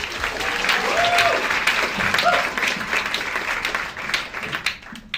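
Concert audience applauds a youth ensemble at a holiday show, steady crowd clapping throughout with a few faint voices mixed in, tapering off toward the end.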